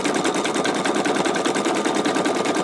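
An embroidery sewing machine stitches a T-shirt on water-soluble stabilizer with a fast, even mechanical rattle, steady needle strokes repeating rapidly and loud up close, with no voices.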